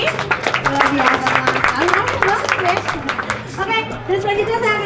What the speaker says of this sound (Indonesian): Boleh kan tepuk tangan lagi?